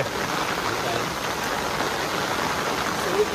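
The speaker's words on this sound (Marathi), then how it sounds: "पाऊस वरती पडतोय" Steady rain pours down on a farm in a continuous, even hiss, fairly close and unbroken throughout.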